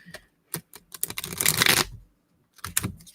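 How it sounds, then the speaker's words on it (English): Tarot cards being shuffled by hand, several quick riffling bursts with a longer dense flurry in the middle, close and fairly quiet, with no talk. "I got 3 shuffles in on this"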